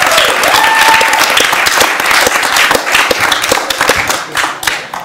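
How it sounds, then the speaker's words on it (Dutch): Loud, sustained applause from a festival audience at a Dutch tech event, dense clapping filling the whole stretch and thinning slightly toward the end. "Mag ik wel in de tussentijd een heel hard applaus"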